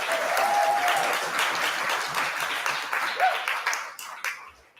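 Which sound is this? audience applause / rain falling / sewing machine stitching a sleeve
audience applause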